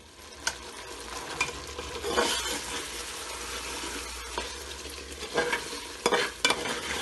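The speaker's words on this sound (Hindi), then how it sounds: "देखिए ये भुनने लगा" Tender mutton with chana dal sizzles and fries in a pan, with a steady crackle, stirring scrapes and a few sharper clatters throughout, close up and without speech.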